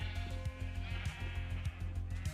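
Sheep bleat in a Minecraft modpack game over a steady droning music background, with a rapid pulsing low rhythm throughout.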